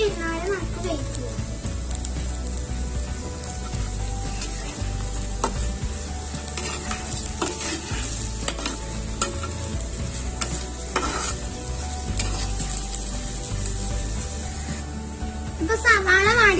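Onions frying in a pan, a steady sizzle that runs under stirring and scraping, with children's voices and other speech in the kitchen around it.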